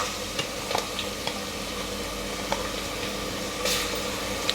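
Ginger garlic paste and curry leaves fry in a pan with a steady close sizzle, punctuated by scattered light taps and scrapes of stirring throughout.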